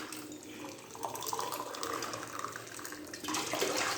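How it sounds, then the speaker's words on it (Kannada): Water pours from a vessel into a cooking pot while making masala sandige batter, a soft, steady splashing and trickling at close range with slight swells, fairly quiet throughout. "ಇವಾಗ ನಾವು 6 ಲೋಟ ನೀರು ಹಾಕ್ತಾಯಿದ್ದೀನಿ."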